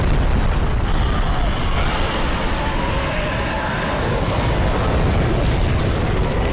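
A dragon in Dark Souls 3 breathes fire on the area below, a loud, continuous roaring rush of flame that holds steady without a break and has no voices over it.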